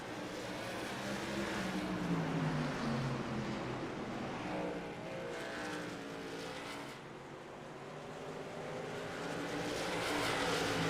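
A pack of racing trucks runs around a circuit in a truck racing series, making a steady, loud, blended engine roar that swells and eases slightly as they pass, with no voices over it.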